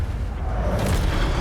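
A rushing, roaring burst of magical fire from the Incendio spell in Hogwarts Legacy swells into a broad hiss over a steady low rumble, loud and close.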